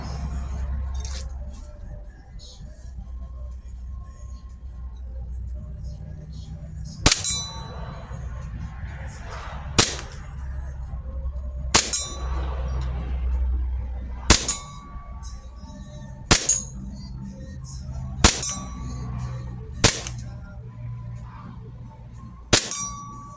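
Pellets from an ICS BLE-XAE BB pistol strike a black bucket target 10 meters away, giving seven sharp metallic clangs at irregular intervals over a low rumbling background.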